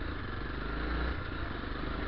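A motorcycle fitted with a Yamaha R6 exhaust rumbles loudly and steadily at close range, a throaty exhaust burble holding throughout with no speech.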